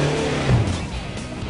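A 4WD towing a trailer climbs out of a creek ditch, its engine droning loud and close in a continuous rumble with a slight rise in revs as it pulls clear.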